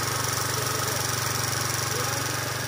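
Kawasaki KLX BF trail motorcycle on its original carburetor idles close by, a steady, smooth low thrumming pulse with a faint mechanical hum, no voices.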